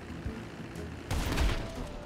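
Gunshots strike an aircraft in the GTA 5 video game, a scattered burst of muffled gunfire followed by a louder booming crackle, with low game noise underneath.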